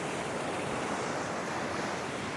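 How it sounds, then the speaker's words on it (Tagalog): Calm sea waves wash steadily onto a beach on a quiet morning, a continuous soft roar of surf with light wind, no voices. "Payapang payapa ang dagat. Hindi katulad kahapon na malakas ang alon."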